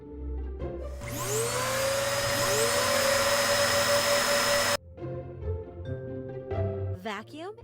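A vacuum cleaner starts up and runs with a loud, steady motor whine for several seconds, then cuts off abruptly, leaving quieter background sounds and a brief rising tone.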